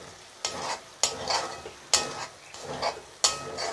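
Ground coriander and cumin paste is stirred and sautéed in a pan for duck curry: four sharp scraping strokes, each followed by a brief sizzle, heard close with no talking.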